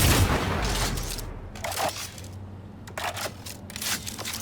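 Sniper rifle fire in the video game Cyberpunk 2077: a loud opening blast with rolling echo, followed by several sharper, fainter shots spaced through the rest.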